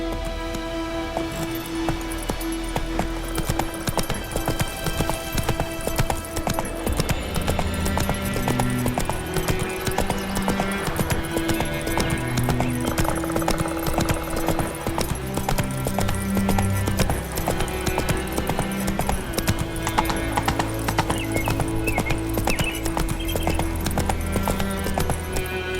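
Horse hooves clip-clop steadily at a gallop in The Witcher 3 on PlayStation 5, a continuous rhythmic pounding with a faint whinny, set against a game soundtrack and light rain ambience.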